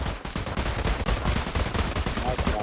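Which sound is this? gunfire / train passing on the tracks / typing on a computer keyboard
gunfire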